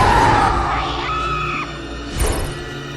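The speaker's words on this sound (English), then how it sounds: "We heard a scream!" A short, shrill scream rings out in the point-and-click adventure game A Vampyre Story, rising briefly over background music, followed by a quick crash-like burst.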